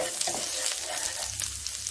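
Garlic sizzles in a tablespoon of hot sunflower oil in a pan, a steady close crackle with soft stirring scrapes throughout, for a Thai basil beef stir-fry.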